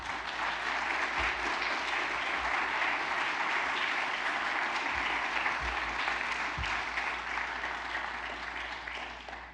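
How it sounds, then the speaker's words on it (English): An audience at a Boy Scout Eagle Court of Honor gives sustained, dense applause that holds steady throughout and only starts to taper at the very end. "So let's give everyone up here a round of applause,"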